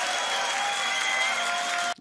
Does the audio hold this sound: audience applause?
yes